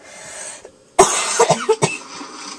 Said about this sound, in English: I'm so pissed off I'm coughing.